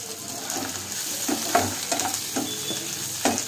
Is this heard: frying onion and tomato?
yes